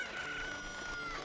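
Crowing and clucking from chickens in a horse racing video game, a short steady burst of game audio with a thin rooster-like tone running through it and no talk.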